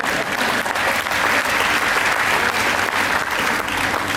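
An audience at a Hindi comedy poetry laughter night claps loudly and steadily in sustained applause, with dense clapping filling the whole stretch.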